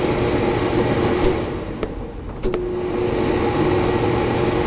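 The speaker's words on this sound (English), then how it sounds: "this is the cooling mode with full power fan. And there it is. Compressor kicked in." A Whynter ARC-14SH portable air conditioner runs in cooling mode with its fan at full power, giving a steady, close whoosh. Partway through, a couple of clicks sound and the compressor starts, adding a low, constant hum.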